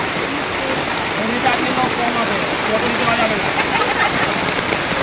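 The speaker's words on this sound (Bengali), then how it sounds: "প্রচণ্ড বৃষ্টি শুরু হয়ে গেল।" Heavy rain pours steadily in a forest, a dense, continuous hiss close by throughout, with faint voices murmuring underneath.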